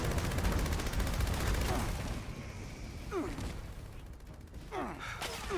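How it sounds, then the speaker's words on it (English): Gunfire from a Fallout 76 battle comes as a dense rattle of rapid shots in the first two seconds, then thins to scattered, softer bursts against a busy game backdrop. "I think I'm getting shot at."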